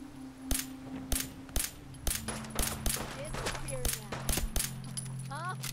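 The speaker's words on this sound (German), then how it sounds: "Ich verschwende hunderte Schuss an dich." Gunfire from Fallout 4 rings out in a rapid series of sharp, loud cracks at irregular intervals, some in quick bursts, over a low steady hum, with a few faint clinks near the end.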